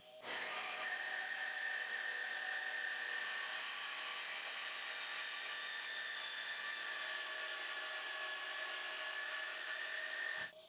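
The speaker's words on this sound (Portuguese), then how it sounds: "Lá na serra de fita, eu pude refender a peça em 2 tábuas." Band saw resawing a wooden board into two thinner boards in a woodworking shop, a steady whining hum that holds constant for about ten seconds, starting and cutting off abruptly.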